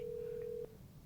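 A telephone on a call-in radio show sounds one steady electronic ring tone that holds for about half a second and then cuts off, leaving quiet room noise with no talking.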